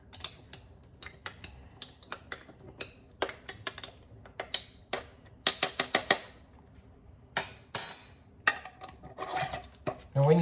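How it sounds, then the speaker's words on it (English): A spoon jabs and scrapes at a solid clump of mushroom grain spawn inside a container, giving a close, irregular series of sharp clinks and gritty knocks separated by short pauses. "All right, I might have to break that up with my spoon."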